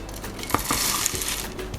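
Chocolate pieces drop into a saucepan of half-melted butter, giving a few close, sharp clinks and taps against the pan with light scraping between them.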